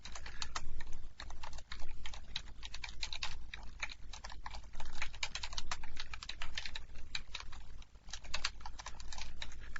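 Rapid, steady typing of a command on a computer keyboard, close and continuous keystroke clatter with brief pauses, no speech.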